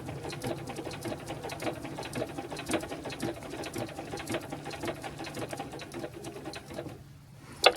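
A sewing machine stitches a machine appliqué around a fabric piece, giving a steady close mechanical whirr with rapid needle clatter that runs on continuously, then briefly pauses near the end before a short burst.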